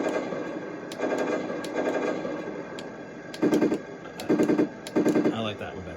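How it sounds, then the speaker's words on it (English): A Heng Long M1A2 Abrams RC tank fires its default machine gun sound effect in three short rattling bursts, each rapid and loud, after a quieter stretch of softer electronic tones. "it goes back to the default machine gun"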